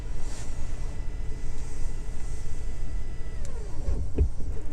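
A BMW 760i xDrive power seat hums steadily as its motor folds the seat back up, a low even whir inside the car with a faint click near the end.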